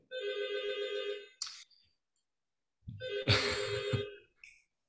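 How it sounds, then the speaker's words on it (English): A phone rings during a live Zoom lecture: two bright electronic ring bursts, close and loud, separated by a short silence. "My phone's ringing."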